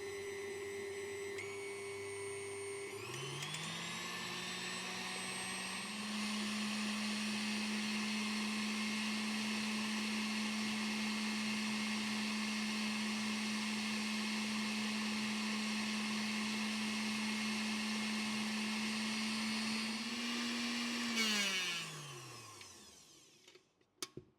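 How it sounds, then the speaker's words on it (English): An electric mixer runs at high speed beating eggs and sugar, a steady loud whirring drone that spins up at the start, holds constant for most of the time, then winds down near the end. "Beat them with high speed of electric mixer for about 5 minutes or until it turns light and fluffy."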